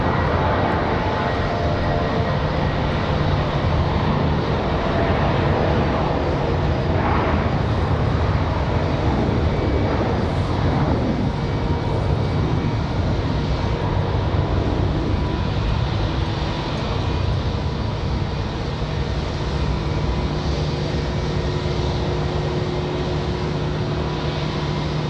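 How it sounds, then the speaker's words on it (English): An Airbus A321 airliner taking off at Raleigh-Durham airport, a loud, sustained jet engine roar that stays strong throughout with a steady broadband rumble. "Finally, our A321 off to Charlotte."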